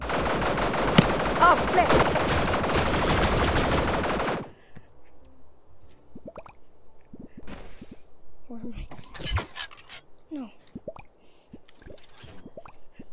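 Rapid dart gunfire in a Gorilla Tag imitation video game rattles loudly for about four seconds, then stops, followed by scattered sparse pops and clicks while a voice exclaims briefly.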